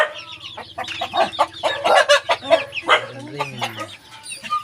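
Native breeder chickens cluck and chatter in a small coop, several birds calling close by in short bursts, with someone speaking briefly over them.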